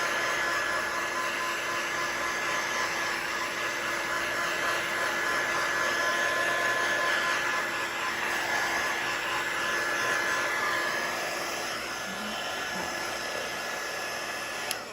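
A hair dryer blows steadily on a Christmas craft project, a loud continuous whooshing drone that holds nearly unchanged for about fifteen seconds with no voices over it.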